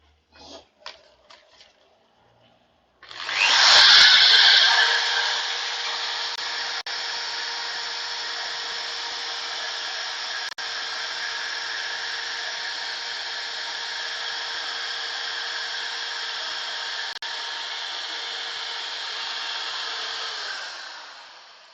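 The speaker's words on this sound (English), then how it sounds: "Say we did a bit of power sanding." A power sander runs on ash wood, starting with a sharp burst, then settling into a steady, close, high whirring drone that holds for many seconds before cutting off.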